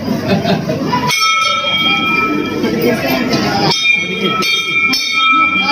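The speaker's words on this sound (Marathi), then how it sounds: "घंटी कशी वाजते देवाची कसं वाजते बघा" A bright metallic temple bell at a Nagnath temple on Nag Panchami rings with sustained, shimmering tones over a noisy crowd, strikes recurring a few times through the clip.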